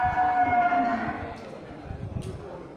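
An Aceh bull at the Geurugok livestock market gives a long, loud low moo that fades into the surrounding market noise.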